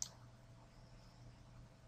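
A single computer mouse click while closing an Excel worksheet in Word 2010, with a faint second click near the end; both are brief and quiet over a low steady hum.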